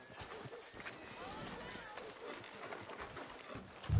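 Horse hooves clip-clopping in the video game Red Dead 2, a steady series of soft close hoof knocks under ongoing speech and ambient noise, with a louder thump at the very end.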